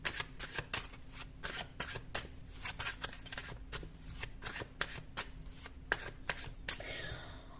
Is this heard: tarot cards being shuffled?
yes